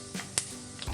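Mustard seeds and cumin seeds crackle in hot oil in a wok, a short burst of sizzling with sharp pops and spits over a soft steady fry, close and moderately loud.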